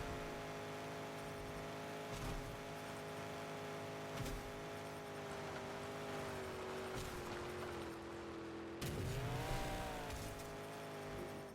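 A monster truck roars around the Glacier Turbo Thrill course in the Monster Jam Showdown video game. The engine drone holds steady, then dips and rises in pitch with a brief bump near the end, and no one speaks.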